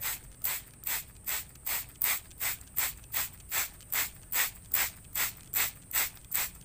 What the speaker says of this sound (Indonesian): Saya akan semprot.